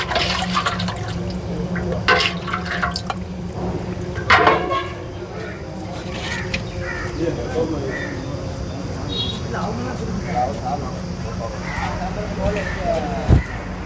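Buttermilk splashes and pours into vessels at a Thiruvannamalai food offering for sadhus, a steady liquid trickle amid busy outdoor crowd chatter, clattering utensils and people talking nearby.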